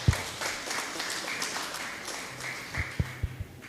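Audience applause at an early-childhood numeracy talk show for teachers, a soft, diffuse patter of clapping across the room with a few sharper thumps and knocks near the end.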